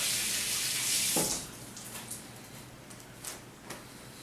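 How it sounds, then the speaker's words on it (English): Tap water runs loudly as hands are rinsed underneath it, then is cut off after about a second, leaving a few faint drips and small knocks in a quiet room. "I'm going to rinse my hands off"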